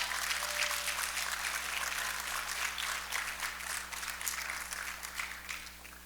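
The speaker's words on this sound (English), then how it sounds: "please, give her a round of applause." Audience applause for Councilwoman Scippio at the HBCU Smart Cities Challenge Showcase, a sustained wash of clapping from a crowd that continues steadily and eases slightly toward the end.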